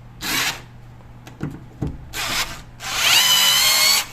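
A Lotus 6V cordless screwdriver (LTDR4XP) runs in reverse to back out a screw, giving a few short whirring bursts and clicks, then a longer, louder steady whine near the end.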